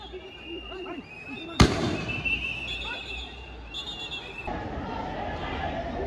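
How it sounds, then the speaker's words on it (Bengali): A police sound grenade goes off with one sharp loud bang at a student coffin procession in Dhaka University, followed by crowd noise and chatter, whistles and a lingering roar. "পুলিশ সাউন্ড গ্রেনেড ছোড়ে"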